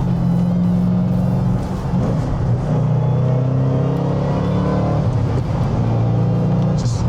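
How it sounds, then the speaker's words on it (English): A Roush Mustang pulls hard under acceleration, its supercharger whining in steady rising tones over a loud, close engine rumble that holds for several seconds with no talk. "Never get enough of that supercharger whine."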